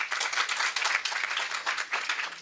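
A round of applause for panelists at a National Archives Week event, brief dense clapping from an audience, fairly soft and distant, with no speech over it.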